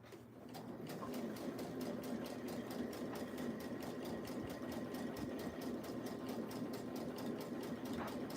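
A sewing machine stitches a top, its needle chattering in a fast, steady rhythm throughout, fairly quiet and close with no talking.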